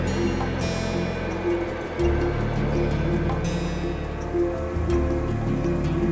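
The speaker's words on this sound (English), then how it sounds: "flush the toilet and let the T5 record the flush volume" A toilet flushes into a T5 flushmeter sealed over the trap with a balloon gasket, giving a steady, loud rushing and gurgling of water throughout with small clicks and drips.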